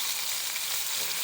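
Tuna and wahoo medallions fry in a pan with a steady, bright, continuous sizzle, close and alone.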